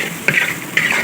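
Food gets stirred in a cooking pan: two quick scraping strokes close by, each a short gritty swish, over a faint sizzling background.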